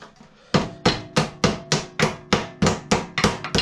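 Hammer beating sheet metal for a handmade Land Rover door skin: about a dozen sharp, loud, close strikes in a steady rhythm, each with a short ringing decay, and no talking.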